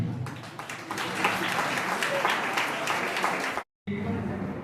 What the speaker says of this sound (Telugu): ఏలూరు డివిజన్ వాళ్ళు మాత్రం పెద్దగా చప్పట్లు కొట్టండి